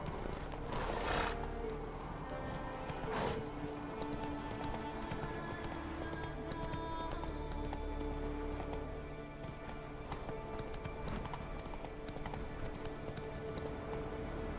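Geralt's horse in The Witcher 3 on Skellige gallops with quick, rhythmic hoofbeats and a brief whinny, moderately loud and steady throughout, with game ambience and music underneath.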